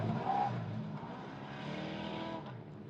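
Baja 500 off-road race truck roaring past in the desert, a loud continuous engine drone that swells and holds steady, with a helicopter overhead in the area.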